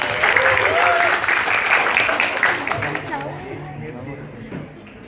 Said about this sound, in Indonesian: Tepuk tangan untuk Pak Himawan.